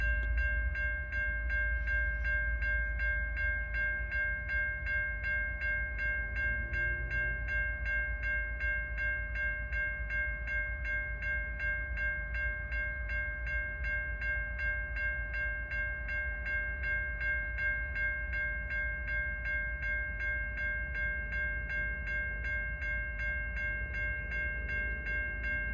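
CN freight train S773 rolls out of Ladysmith Yard past the Lake Avenue West and Minor Avenue West level crossings, crossing bells ringing steadily over a constant low rumble of locomotives and rail cars.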